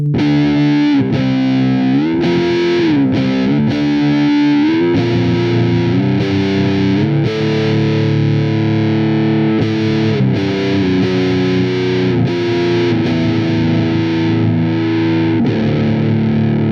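An EVH Wolfgang Custom Standard electric guitar plays a loud, sustained run of distorted notes and chords with the treble turned fully off, giving a dark, muffled tone throughout with no talking.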